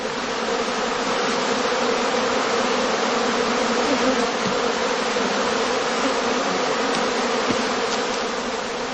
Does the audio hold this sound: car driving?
no